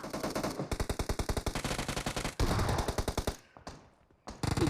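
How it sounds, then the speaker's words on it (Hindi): Loud, close automatic gunfire in BGMI on the Erangel map, a long run of rapid evenly spaced shots that pauses briefly, resumes, fades, and then a final burst breaks out. "पीछे से फायरिंग की साउंड आती है, फायरिंग होती है"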